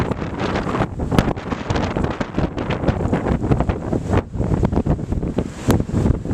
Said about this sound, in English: All right, very windy.